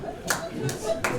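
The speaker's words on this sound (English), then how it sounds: "There's a single clap for someone that's done that." A lone audience member at a stand-up comedy show claps a few times, sharp isolated smacks spaced well apart, with a low room murmur underneath.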